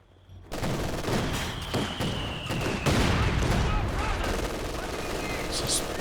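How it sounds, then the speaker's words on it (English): Company of Heroes 2 battle with rifle grenade blasts and dense gunfire, loud continuous rattling volleys and heavy bangs after a sudden start, with someone talking underneath. "This is prime rifle grenade action here."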